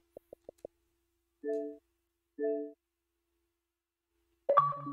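Notification chimes from Red Dead Redemption Online on Xbox Series S: four quick soft clicks, then two matching tonal chimes about a second apart, each held briefly and clear in near silence, followed by a brighter sound burst at the end.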